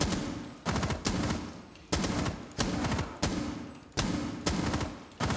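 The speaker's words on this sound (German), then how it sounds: "Nur unten schießen, nicht die Sicht kaputt schießen." Repeated bursts of automatic gunfire in Rainbow Six Siege, loud and close, each burst sharp at the onset and then trailing off, coming in a steady rhythm over about five seconds.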